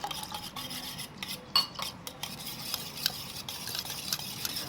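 Soft, steady scraping and swishing of a spoon stirring thick curd batter in a bowl as water is added little by little, with faint clinks, fairly quiet and close.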